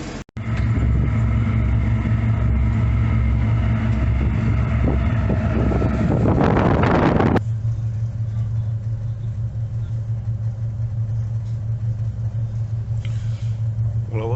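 Strong wind buffets the microphone aboard a ferry leaving Gills Bay for South Ronaldsay, Orkney, a loud roaring gust for several seconds that drops to a steady low engine rumble and hum.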